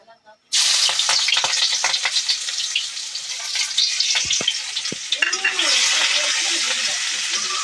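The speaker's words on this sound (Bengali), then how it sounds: "তেল যখন তেতে যাবে তখন সর্বপ্রথম আমরা মরিচ দেবো এই পেঁয়াজ দেবো" Chilies and onions hit hot oil and burst into a loud, steady sizzle after a brief quiet start, with scattered clicks and scrapes of stirring throughout.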